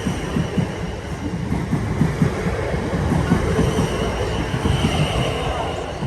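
A train rolls through the Petersfield level crossing, its wheels clattering in a steady rhythmic clickety-clack over rail joints, loud and close throughout with continuous rumbling underneath.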